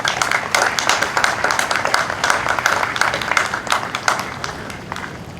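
An audience applauds at a ceremony in Johnstown, New York, honoring the state's first female governor: a steady patter of many hands clapping that keeps up for several seconds.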